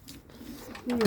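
Racing pigeons in a loft give a soft coo, rising clearly near the end after quiet rustling, with a voice nearby.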